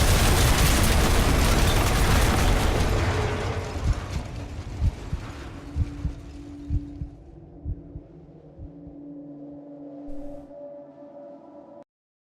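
A massive explosion in the video game F.E.A.R. bursts out loud and broadband, then fades over several seconds into scattered thuds, rumbling debris and a low mechanical hum before cutting to silence.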